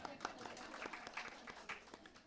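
A small church audience gives scattered, faint applause, a few uneven claps that come and go while someone keeps talking over them.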